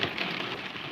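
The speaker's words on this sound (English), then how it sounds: "We got rain big time here in Delaware." Heavy rain pours outside in Delaware, a dense continuous hiss of drops striking surfaces, steady and fairly loud with no voices.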